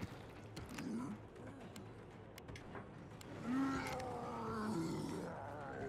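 A Minotaur creature roars in a video game: deep, growling bellows rise and fall in several drawn-out bursts, swelling louder midway, set over a low rumbling game soundscape.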